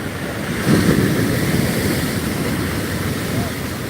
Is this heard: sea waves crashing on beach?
yes